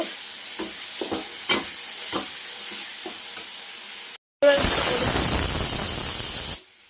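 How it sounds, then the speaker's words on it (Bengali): Ginger-garlic paste stirred into bhola fish curry in a frying pan: a few light spatula scrapes over a low hiss, then a sudden loud, steady sizzle and steam hiss that cuts off at the end. "আমি একটা আদা রসুন বাটা দেবো দিয়ে ভালো করে নাড়াচাড়া করে নেব"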